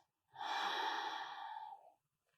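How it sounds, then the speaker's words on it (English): A single deep, audible breath during a yoga session, about one and a half seconds long, close and clear in quiet surroundings. "breathe in here, and then breathe out"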